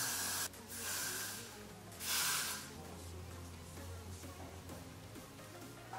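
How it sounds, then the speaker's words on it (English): Got2b Glued freeze spray sprayed onto a lace frontal wig in two short bursts of hissing aerosol, close up and moderately loud, followed by quiet rustling. "using my got2b glued free spray, I'm just going to spray down"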